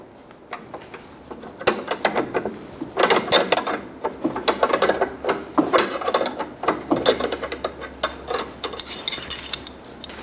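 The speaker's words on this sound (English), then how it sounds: "Using a 5mm Allen key, we're going to hold the stud and remove the nut." A wrench ratchets a nut off a front sway bar link stud on a 2008-2015 Scion xB while a 5mm Allen key holds the stud, with bursts of quick metallic clicking and small clanks, close and moderately loud.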